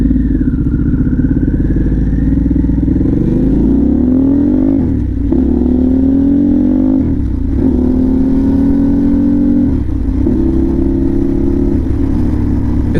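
A Pan America motorcycle engine idling at a high, steady pitch nearby while warming up, with a few brief dips and surges in engine tone.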